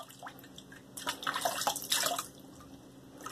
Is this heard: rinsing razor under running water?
yes